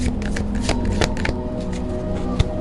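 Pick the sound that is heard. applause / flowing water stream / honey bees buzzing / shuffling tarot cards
shuffling tarot cards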